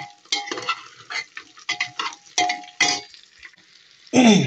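Food being stir-fried in a pan with a spatula: a series of clattering scrapes and stirring bursts, ending in a louder sizzle close by, with no talking.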